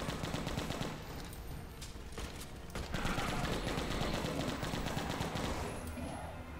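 Sustained machine gun fire in the Left to Survive zombie shooter, a rapid continuous rattle of shots at moderate level that swells midway, with faint background game noise.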